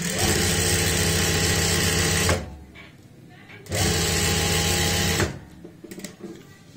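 A sewing machine runs in two loud, steady bursts while stitching the hook strip on the front of a blouse, with a pause of quieter handling between them.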